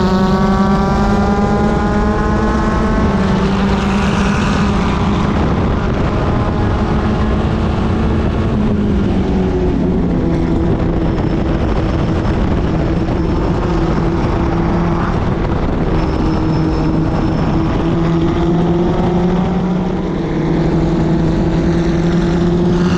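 Formula Ford race car engine running hard on a championship track, a loud, steady, high-pitched drone with rising and falling pitch as it changes speed, close and continuous with no voices.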